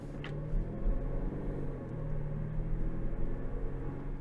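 A 2021 Volvo V90 Cross Country B5 engine hums steadily while driving, a smooth low rumble with light road noise that swells gently and holds even throughout, close and moderate in level.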